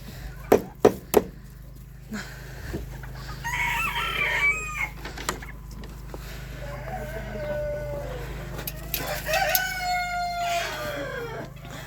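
Farmyard chickens cluck and squawk nearby in a rural village yard, with a few sharp knocks at the start, then drawn-out hen calls and cackles under a low background hum and occasional speech.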